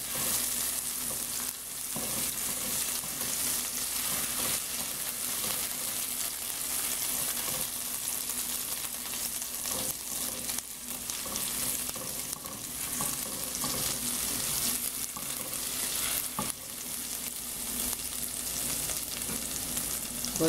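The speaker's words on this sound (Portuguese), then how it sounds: "Eu vou refogar com alho." Garlic and salt sautéing in a pan for Brazilian-style rice, a steady continuous sizzle and crackle with occasional stirring scrapes, close and fairly loud throughout with no talking.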